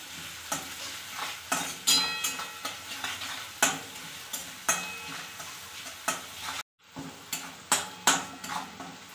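Onions with salt being sautéed in a pan for anda bhurji, a rhythmic series of spatula scrapes and clacks against the pan over a light sizzle, close up, with a brief pause near the end.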